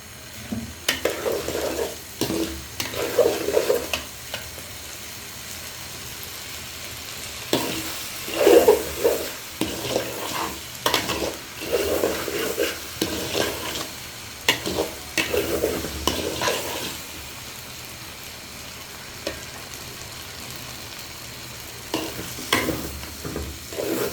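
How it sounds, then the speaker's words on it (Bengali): Polao rice with cinnamon and cardamom is stirred and fried in a pot, a spoon scraping in repeated, irregular bursts over a soft sizzle, close and fairly loud. "দারচিনি দিয়ে এখন নাড়াচাড়া করে দিচ্ছি আমি পোলা চাউলগুলো ভেজে নেব"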